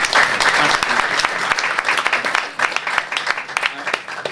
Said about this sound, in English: I think we should give everyone a round of applause.